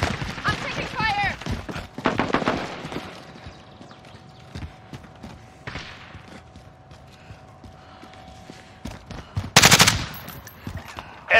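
Gunfire in a first-person shooter during a live-streamed match, with bursts of shots among footsteps and mechanical clatter, while a player talks over it.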